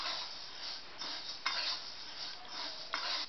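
Chakli flour is stirred and roasted in a hot kadhai, making dry scraping and gritty rustling strokes that repeat every second or so with faint clinks, close and alone.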